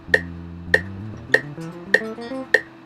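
Electric guitar played with the tone knob turned down, giving a muted, dark sound; a short melodic line of notes plays alone at about 100 beats per minute over five evenly spaced clicks.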